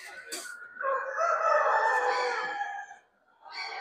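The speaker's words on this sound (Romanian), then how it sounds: "campion, cocoș de Columbia galben-negru" A yellow-black Colombian rooster crows once, a loud close drawn-out call of about two seconds, with brief voices just before it and a short sound after a pause.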